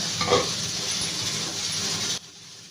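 Egg curry mixture being stirred in a hot pan, a close sizzling hiss with soft scraping strokes that cuts off abruptly near the end.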